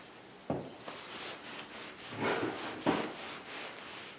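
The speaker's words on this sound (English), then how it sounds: "This is Johnson's paste wax. You apply it with a rag. Rub it in good." A rag rubbing Johnson's paste wax into a wooden surface, close-up with soft irregular strokes and a few sharper scuffs, no voices.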